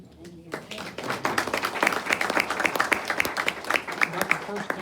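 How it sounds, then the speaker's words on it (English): Audience applause at a community forum on homelessness and affordable housing, a dense burst of many hands clapping that starts abruptly and holds steady and fairly loud throughout. "That's the first time I've heard applause after I speak"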